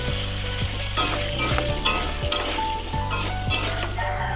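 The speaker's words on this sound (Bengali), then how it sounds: "ওই তেলেই আমি আলু এবং গাজরটাকে ভেজে নিচ্ছি" Potatoes and carrots frying in a wok of plentiful oil seasoned with salt and turmeric, a dense steady sizzle with repeated clinks and scrapes of a utensil stirring against the pan.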